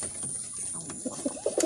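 Pigeons coo softly and close by in a loft, a few low throaty coos bunched toward the end of the short stretch over a faint steady background hiss.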